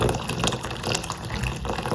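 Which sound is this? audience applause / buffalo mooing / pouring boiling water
pouring boiling water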